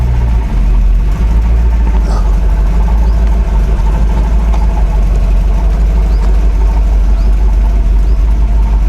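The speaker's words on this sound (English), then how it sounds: "Oh, it is idling on its own now." A RAM 1500 Rebel pickup truck engine idles steadily with a deep, constant low rumble, close and fairly loud, with no talking over it.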